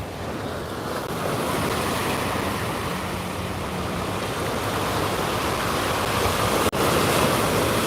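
Strong wind at New York harbor during Tropical Storm Fay, a loud, steady roar and rush of gusts buffeting the microphone along with a churning water wash, with one sharp knock near the end and no talking.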